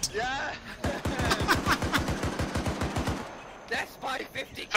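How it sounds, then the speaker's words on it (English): Heavy .50 caliber machine gun in a military video game, firing a fast, steady burst of loud rounds for about two and a half seconds amid battle noise, with voices talking around it. "Death by 50 cal!"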